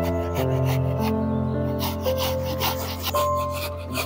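Ash gourd (kohla, petha fruit) grated by hand, giving a close, continuous rasping rub with short repeated strokes over a steady background hum, no speech.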